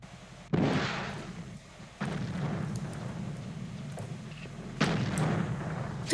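Explosions in the video game Battlefield 1942: three separate blasts about two seconds apart, each a sharp burst fading into a rumbling tail, at moderate level with no talk.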